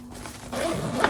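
A chest pack's zipper is pulled open in one short close rasp lasting about half a second, then the sound stops.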